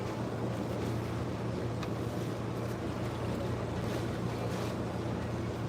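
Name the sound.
Speed Queen Horizon washing machine rinse cycle, water sloshing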